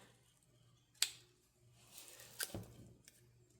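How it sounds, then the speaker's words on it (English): Scissors give two sharp, close snips while cutting deco mesh ribbon for a wreath, separated by quiet handling rustle. "Let me snip that out."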